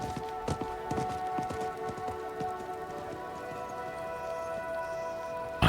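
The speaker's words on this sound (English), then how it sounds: "I think that was the merchant's horse." A merchant's horse gallops in the video game Diablo IV, its hooves giving a fast, rhythmic clip-clop of distinct thuds over a droning ambient music bed, with the beats strongest early on before they thin out.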